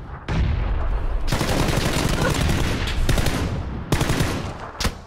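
Sustained loud gunfire from an enemy in a shooter video game, a dense rattling barrage that runs almost unbroken for several seconds, then cuts off briefly before another short burst and a final sharp shot.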